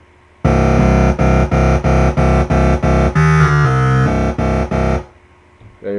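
A dubstep scream synth bass patch made in Massive blasts in a series of loud, distorted, rhythmic stabs with a growling midsection, then cuts out abruptly to near silence.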